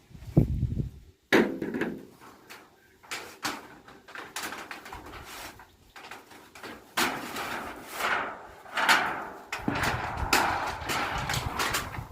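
Hammer blows driving nails into zinc roofing sheets outdoors, a series of sharp metallic impacts in irregular bursts, fairly close, with some background noise between strikes.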